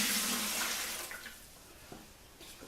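Water pours into the tank of a Maruyama MD155DX backpack mister, a steady broadband splash that starts loud and tapers off over a few seconds, with faint knocks near the end.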